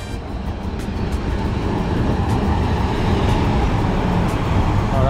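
Tram pulling into a stop in Milan, heard as a steady broadband rumble of wheels and motor mixed with street traffic noise, continuous and fairly loud without distinct events.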